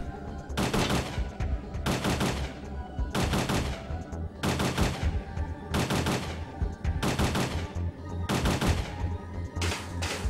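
Rapid bursts of automatic gunfire in the PS1 game Parasite Eve 2 repeat in a steady rhythm, loud and close, each volley lasting about a second with brief gaps between.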